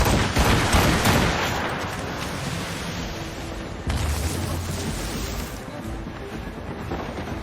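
Ship cannons and mortars fire in a naval battle in Assassin's Creed Rogue, a dense, continuous rumble of booming shots with a fresh heavy blast partway through, loud and close.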